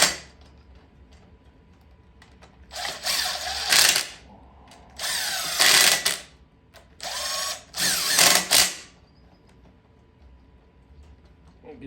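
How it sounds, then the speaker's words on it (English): Power tool driving bolts tight on a Troy-Bilt Pony rototiller, heard as several loud, whirring bursts of a few seconds each, separated by short pauses and quieter clicks. "I am torquing them"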